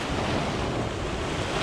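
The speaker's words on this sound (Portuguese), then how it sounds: "Vou esperar a onda vir." Ocean surf breaking against a rocky shoreline, a steady loud wash of rushing water mixed with wind buffeting the microphone, no talking.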